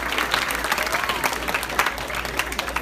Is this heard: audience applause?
yes